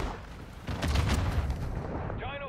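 Gunfire rattles through a video game shootout, a dense run of overlapping shots and heavier booms close by that rises in loudness partway through and continues steadily, with a faint voice near the end.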